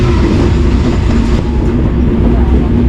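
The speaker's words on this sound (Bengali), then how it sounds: "ট্রেন এখন আস্তে আস্তে স্টেশনের কাছে চলে যাচ্ছে" A train approaching a station on the Phulbari to Joypurhat line in Bangladesh rumbles along the tracks with a constant low roar and rattling carriages, loud and close, steady throughout.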